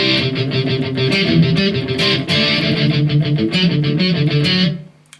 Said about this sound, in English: a mixture of power chords, palm muted, and also some single notes